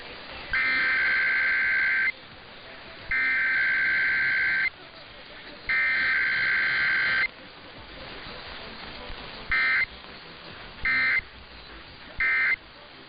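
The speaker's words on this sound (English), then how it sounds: "The following is a test of the emergency alert system." Emergency Alert System test tone on a radio broadcast: three long buzzing attention-tone bursts separated by short gaps, then three quick shorter bursts, loud and harsh against quiet background.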